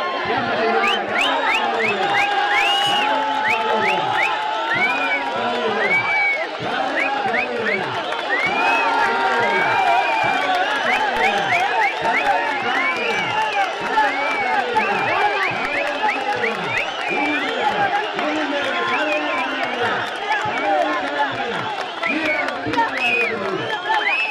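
A loud crowd at a bull-taming contest cheers, whistles and claps nonstop, with repeated rising whistles over a dense roar while a voice calls out above the din.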